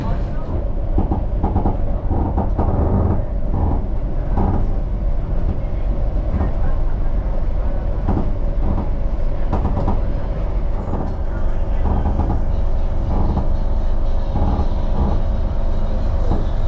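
A cheap passenger train runs on rails through small towns, a steady loud rumble with rhythmic clicks and clatter of the wagons throughout, heard from inside the carriage.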